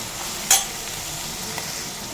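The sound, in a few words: onion and green chillies sautéing in a pan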